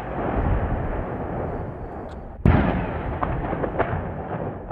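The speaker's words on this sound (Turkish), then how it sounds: "Rejim güçleri ilçeye bomba ve roket yağdırdı." Bombs and rockets strike the Darat Izze district, and a single loud blast punches through steady rumbling background noise midway, followed by scattered smaller thuds and crackles.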